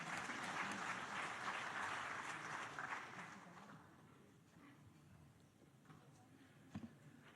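Audience applause welcoming a speaker at a World Navkar Mahamantra Day gathering, a dense, loud clapping for about four seconds that then thins and fades to a few scattered claps.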